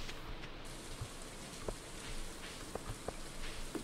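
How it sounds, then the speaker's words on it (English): Steady rain from the Stardew Valley farming game, a soft even patter with scattered brighter drop ticks, playing alone without talk. "Now, since it's raining,"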